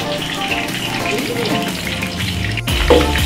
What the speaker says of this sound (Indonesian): Oh, tumis.